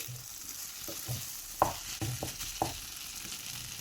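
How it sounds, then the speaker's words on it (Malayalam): Vermicelli upma being stirred in a frying pan, with a soft steady sizzle and several sharp scraping knocks of the spoon against the pan, close and clear, with no talking. "ഒന്ന് ഇളക്കി കൊടുക്കണം."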